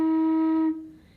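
A beginner's flute note is held steady for about three-quarters of a second, a clear, fairly loud tone with its overtones, then cut off and left to fade into the room.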